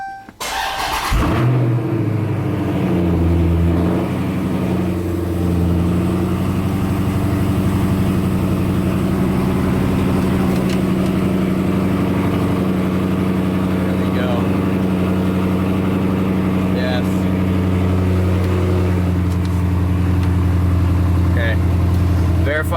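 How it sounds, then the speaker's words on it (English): A 2017 Daytona car engine fitted with a Diablo T1000 tuner cranks and catches about a second in, then settles into a loud, steady idle that runs unbroken to the end. "Now you may start the vehicle."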